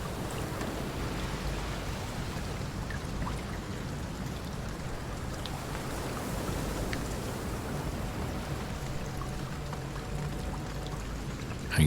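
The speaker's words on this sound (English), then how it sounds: "It's still straight down rain, so no sideways rain or anything." Steady straight-down rain in the Deadliest Catch crab-fishing video game, a dense continuous hiss and patter of drops on a boat deck, constant throughout with no voices.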